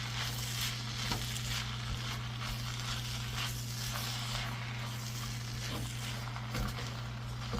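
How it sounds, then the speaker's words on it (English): Rice frying in a pan produces a faint, steady broadband sizzle that runs unbroken over a low electrical hum, with a few small crackles and no voices. "We're going to let that fry here"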